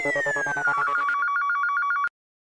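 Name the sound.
telephone ringing during a call to the office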